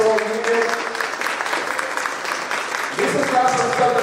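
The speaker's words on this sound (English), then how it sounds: "let's give the athletics department a great round of applause" A crowd at a SWAC football media day gives the athletics department a round of applause: steady broadband clapping that runs the whole time and swells slightly near the end, with someone talking over it.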